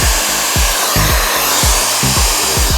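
Loud, steady whoosh of a Flex hair dryer on its lowest setting with a diffuser attached, airflow close up and broken by rhythmic low thumps as it is moved about.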